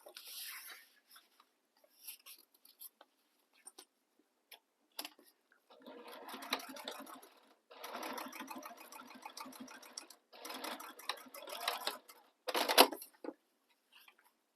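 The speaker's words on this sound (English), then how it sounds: "we're going to top stitch along the short ends here using the seam allowance given in the pattern" A sewing machine topstitching the short ends of bag gussets runs in several bursts of rapid stitching separated by pauses, close and clear, with small handling clicks between runs.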